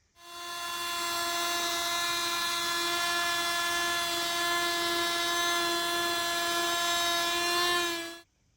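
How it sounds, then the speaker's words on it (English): Oscillating multi-tool cutting through a model railway baseboard for a London Underground layout, a steady high-pitched buzzing whine held for about eight seconds, close and loud, with no talking. "I'm just going to chop this out with the multi-tool"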